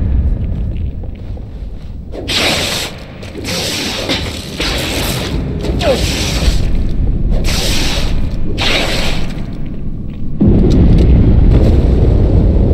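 A large explosion rumbles inside the ship Athens during a Halo 2 cutscene, heard as heavy low booms and thuds in bursts, with a louder roaring surge near the end and no talk.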